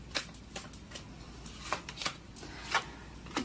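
Tarot cards shuffled and drawn by hand, a run of soft papery riffles and slaps with small gaps between them, close and quiet with no voices.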